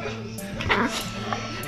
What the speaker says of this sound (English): so here's my dog